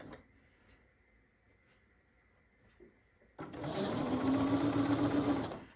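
A sewing machine stitches down a quilt block, starting after a quiet stretch and running steadily and loudly for about two seconds with an even whirring hum.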